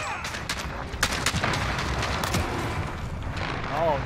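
Gunfire in a Modern Warfare match, a cluster of sharp cracking shots and bursts ending in the player getting sniped, over continuous game background noise with a voice talking.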